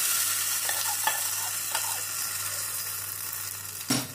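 A hot tempering poured into South Indian coconut chutney, a loud close hiss that gradually dies down, a few soft knocks partway through and a sharp final clatter near the end.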